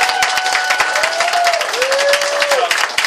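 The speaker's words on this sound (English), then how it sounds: "Y'all give him a round of applause." An audience at a giveaway event applauds the owner, a continuous burst of clapping with a few cheers and a whistle-like tone rising over it.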